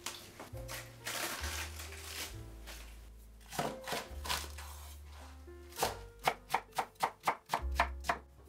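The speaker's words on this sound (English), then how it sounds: "chop 6 garlic cloves" A knife chops vegetables and garlic cloves on a cutting board for chicken chop suey, scattered cuts at first, then a quick run of sharp regular chops, close, over soft background music.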